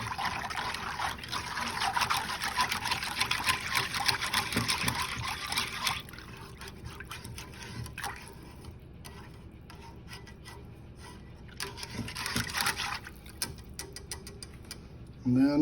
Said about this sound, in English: And we take a whisk. We're gonna mix it all up really well.